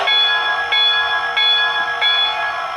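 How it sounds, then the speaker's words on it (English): Locomotive bell from a Blunami 4408 sound decoder installed in a Williams O scale three-rail Hudson, ringing in a steady repeating clang about every two-thirds of a second, close and clear with a constant tonal hum underneath. "How about our bell?"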